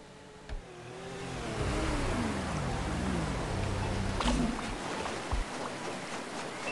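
A motorcycle engine in the video game Sneaky Sasquatch hums and rises in pitch with changing revs for several seconds, a steady mid-level drone with a few brief bumps and no talk.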